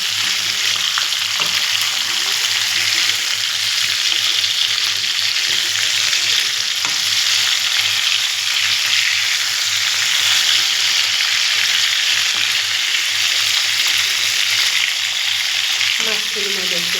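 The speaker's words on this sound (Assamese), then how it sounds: "এতিয়া মাছ ফ্ৰাই কৰি আছোঁ।" Salted fish pieces coloured with turmeric fry in hot oil in a pan, a loud, continuous close sizzle with occasional stirring scrapes.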